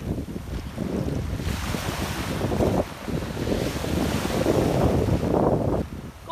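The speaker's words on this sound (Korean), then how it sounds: "지금 알작지, 조약돌에 파도가 밀려온 다음에 빠져나갈 때 소리가 되게 예뻐요." Waves wash up over the smooth pebbles of Aljakji beach on Jeju on a windy day, a continuous hissing surge of surf and rolling stones close by, with strong wind buffeting the microphone throughout.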